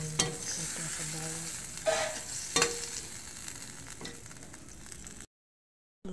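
Ground meat and winged beans sizzling in a pan after a splash of broth, a steady loud frying hiss with a few scrapes of stirring, then sudden silence.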